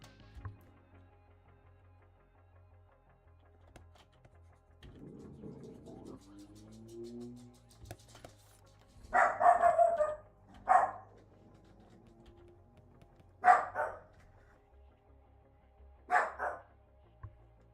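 A dog barks in several short bursts, a pair and then two separate single barks spaced a few seconds apart, fairly close and loud against a quiet room.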